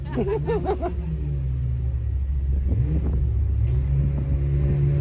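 A Ferrari 355 engine rumbles loudly nearby, with a quick rising rev at the start and a steady low drone throughout.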